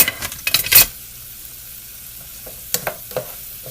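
Chopped chayote and vegetables frying in butter get stirred in a pan, with a few quick scraping strokes at the start and again near the end over a soft sizzle.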